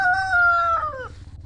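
A rooster crows once, close and loud, a drawn-out call that falls away at the end, with low background murmur.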